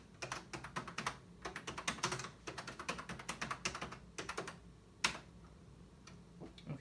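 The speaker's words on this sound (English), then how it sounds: "Type in your name and then press return." Keys clatter on a vintage Brother word processor keyboard, a close, brisk run of sharp plastic clicks in quick irregular bursts with short pauses, ending in one louder strike and a few scattered taps.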